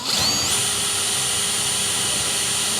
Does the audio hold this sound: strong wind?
no